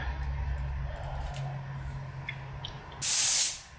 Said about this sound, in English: And I'm going to just spray back and forth a couple of times.